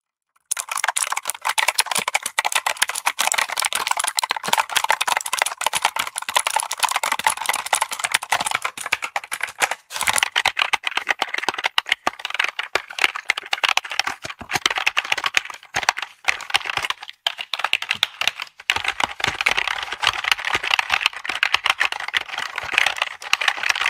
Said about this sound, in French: on va aller voir le bruit des touches de mon clavier G11, le bruit donc l'ancien, le bruit des touches du nouveau